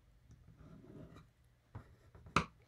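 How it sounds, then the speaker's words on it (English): A bone folder creasing folded paper for a fun-fold card: a faint, soft scraping drag, then a brief rub and a sharper, louder swipe near the end, all close and quiet. "So I'm just going to fold it over and just use my bone folder."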